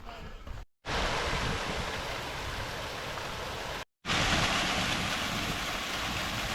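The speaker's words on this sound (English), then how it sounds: "Another waterfall." A waterfall on a mountain hike, the outlet of a pond above, rushes as a steady broadband roar, close and loud, broken by two brief cuts.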